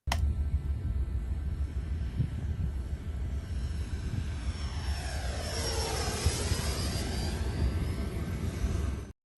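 A Banana Hobby Flyfans J20 radio-controlled model jet roars steadily through a flight, its engine whine sweeping higher and lower as it passes overhead, loud and continuous over outdoor ambience.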